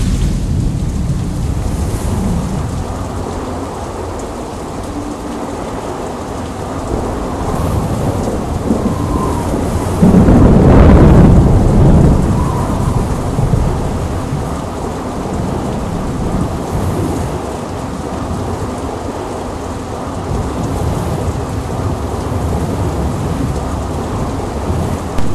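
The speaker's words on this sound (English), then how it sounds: "I wonder when it's going to stop raining." Heavy steady rain pours throughout, with a loud, deep rumble of thunder building near the middle and slowly fading, no talking.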